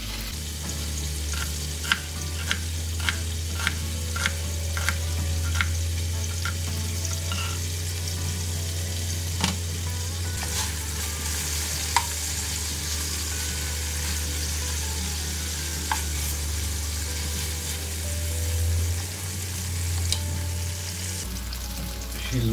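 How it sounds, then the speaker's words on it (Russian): Bell pepper and onion fry in a pan for a potato, turkey and vegetable casserole, giving a steady close sizzle with scattered sharp taps from stirring. No one speaks. "сильно долго перец с луком не обжаривал"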